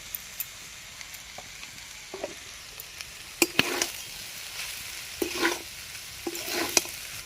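Onions stir-fried for chicken fried rice sizzle softly in a pan while a spatula knocks and scrapes in scattered, louder bursts, close by and without talk.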